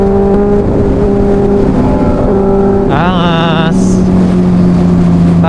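A Benelli TNT 600i inline-four motorcycle fitted with an Austin Racing exhaust hums at a steady pitch close by, then blips into a short rising rev before settling back to a lower drone.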